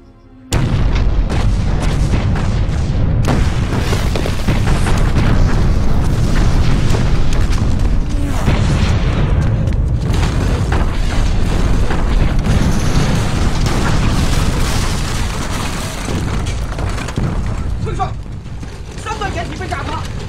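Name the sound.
artillery shelling explosions in a war movie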